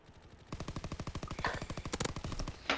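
A submachine gun fires in a World War II video game match, a rapid, even burst of close, loud shots that runs nearly unbroken, with a few heavier impacts mixed in.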